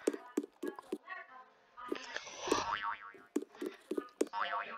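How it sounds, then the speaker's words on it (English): A cartoonish springy jump effect with a rising, wobbling pitch sounds twice amid busy game music and sharp percussive hits. "the annoying jump sound effect"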